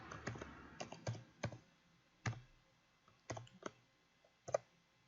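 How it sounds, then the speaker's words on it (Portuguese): Keys clatter on a computer keyboard as a text is typed in Word, with irregular bursts of clicks and short pauses between them, close and moderately quiet, with no talking. "Digitei o meu texto"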